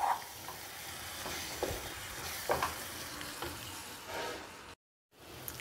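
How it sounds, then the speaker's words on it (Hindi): Sesame seeds and mawa roast in a kadhai with a soft, continuous sizzle and occasional scraping stirs of a spoon, fairly quiet and close, cutting out briefly near the end. "तो इस तरीके से तिल इसके अंदर डाल के थोड़ी देर हम इसको और भून लेंगे।"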